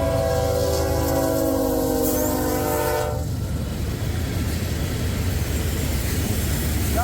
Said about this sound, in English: It's an empty coal train.